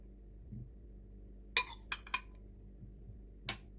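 A few sharp clinks of cutlery against a plate while squid and cucumber salad with orange balsamic is plated, three close taps in quick succession and one more a moment later, over a quiet room.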